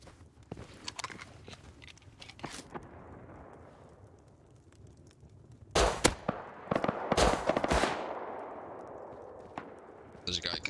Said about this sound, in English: Guys shooting with fire bullets.